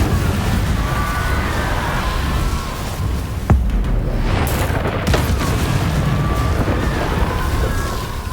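An Incendio fire spell cast in Hogwarts Legacy, a booming burst of flame with a sharp crack near the middle over a dense, continuous roar of game noise and music.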